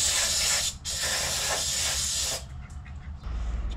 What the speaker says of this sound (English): I'm gonna spray this out a little bit.